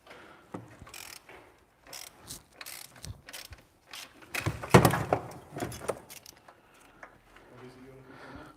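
Ratchet clicks and metallic mechanical rattling while bolts are loosened to remove the engine from a VW Golf MK2 GTI barn find, close and moderately loud, mixed with workshop clatter and intermittent talk.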